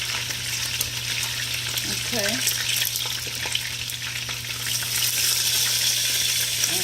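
Seared chicken pieces sizzle and fry in a hot pot for brown stew chicken, a steady close crackling hiss with stirring clatter, while a voice briefly talks over it.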